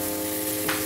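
Ingredients browning in a pan for macaroni soup, a steady close sizzle of frying with a brief louder hiss near the end, no talk.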